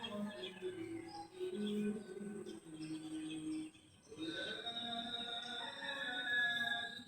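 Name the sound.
birds chirping in the morning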